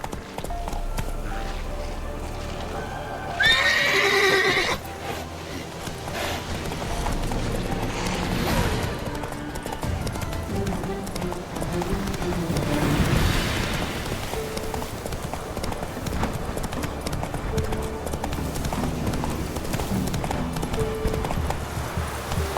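Roach, the horse in The Witcher 3: Wild Hunt, gallops with a continuous rapid clip-clop of hooves over rustling ambience, with a brief neigh near the start and a voice speaking over it.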